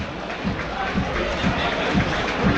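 A football crowd at Hartlepool United versus Gateshead in the National League murmurs and rumbles as Adam Campbell is substituted off, a steady distant wash of voices under close commentary talk.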